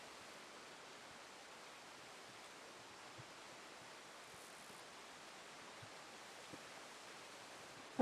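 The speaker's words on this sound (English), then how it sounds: "The sound you hear is the sound of the Merced River flowing in front of El Capitan." Merced River in Yosemite flowing in front of El Capitan, a steady, faint broadband rush of moving water that holds even throughout with no voices.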